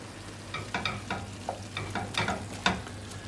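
Tomato paste sizzles softly in a pan while a spoon stirs it through, giving a quiet run of scraping strokes over a low, steady fry.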